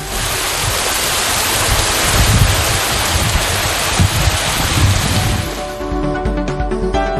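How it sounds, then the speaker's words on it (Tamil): Heavy rain driven by wind lashes coastal areas, a loud, dense, continuous roar and hiss of rainfall with gusty low rumble throughout, easing slightly near the end. "கூழையூர் உள்ளிட்ட கடலோர பகுதிகளில் காற்றுடன் கனமழை பெய்தது."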